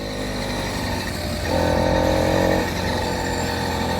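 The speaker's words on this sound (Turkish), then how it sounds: "gazı veriyorum arada" A motorized bicycle engine buzzes steadily on the road, then surges briefly louder and higher as the throttle is opened for about a second before settling back to a constant drone.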